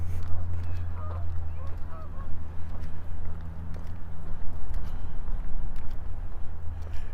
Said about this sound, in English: I hear them honking.